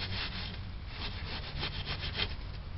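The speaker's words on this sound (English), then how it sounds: "I thought steel wool might work better" Steel wool scrubs rust off a car in quick back-and-forth strokes, a close, continuous rasping scratch with a rhythmic pulse and no talking.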